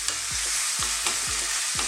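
Tomatoes and zucchini cook down in a pan over medium heat, giving a steady broad sizzle with repeated scraping stirs, roughly four strokes spaced evenly, close and continuous with no talk.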